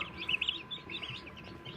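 Newly hatched chicks give soft, high peeping chirps in quick, uneven bursts, faint and close, with no talking.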